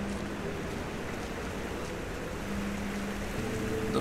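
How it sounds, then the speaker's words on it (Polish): A constant broadband rush of a waterfall in the video game Rise of the Tomb Raider fills the whole stretch, steady and fairly loud, with a faint low hum underneath. "Dobrze słyszałem, że tu jest woda i wodospad."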